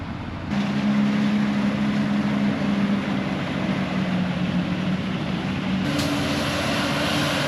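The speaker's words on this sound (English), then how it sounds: "So we're in the cab now, chopping some real corn with Jim, hanging out." Inside the cab of a Claas Jaguar 1000 forage harvester chopping corn, a loud, steady engine drone and roar of the chopping machinery continue throughout, with a faint whine above, no voices.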